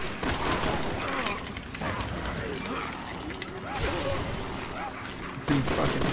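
Gunfire from the Resident Evil 6 video game, sustained, dense mechanical rattling and bursts filling the whole stretch, loud and continuous with a sharper hit near the end, mixed with other game noise.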